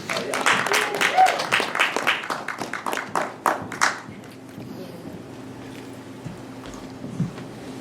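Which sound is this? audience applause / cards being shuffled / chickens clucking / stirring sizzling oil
audience applause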